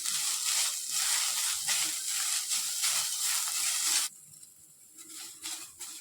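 Onion roasting dry in a pan until golden for a Khandeshi Marathi spicy curry: a steady crackling hiss at moderate level that cuts off abruptly, leaving faint scraping and stirring sounds.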